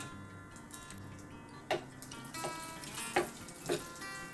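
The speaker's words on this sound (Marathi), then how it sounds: "हे काजूचे तुकडे करून ठेवलेले आहेत आपण, ते थोडेसे फ्राय करून घेऊया." Cashew pieces frying in a pan for pumpkin kheer: a faint continuous sizzle broken by a few light, evenly spaced clicks of a spoon against the pan, close and quiet, no talking.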